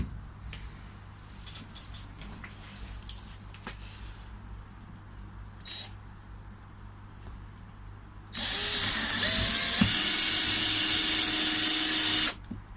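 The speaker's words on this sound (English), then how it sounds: "So let's screw these into place now, tighten everything up." A power drill drives screws into place while a koi pond is being strengthened, with a few short whirring bursts early on, then a loud, sustained run near the end.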